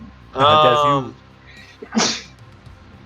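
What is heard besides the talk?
sneeze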